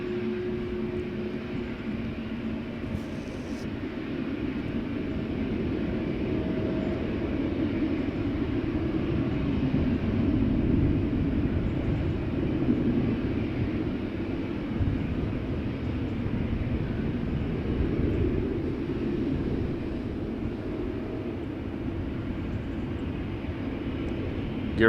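A KLM Boeing 737-800, 24 years old, departing Amsterdam Schiphol produces a loud, steady jet roar that swells slightly midway and holds as a broad continuous rumble throughout.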